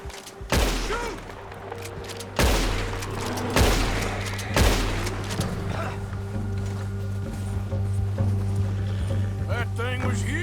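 Gunfire in the Red Dead Redemption 2 open-world game: several sharp, loud shots spaced a second or two apart, followed by a sustained rumbling ambience.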